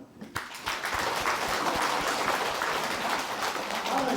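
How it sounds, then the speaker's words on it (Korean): Applause rises from an audience at a Korean church Bible lecture and healing-center gathering, a dense, steady wash of many hands clapping that starts after a brief pause and carries on evenly without talk. "뜨거운 박수"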